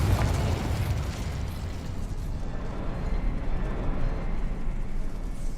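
Fiery Confringo spell blasts from the Hogwarts Legacy game, a dense, steady roar of explosive bursts and rumbling booms held loud throughout with no pause.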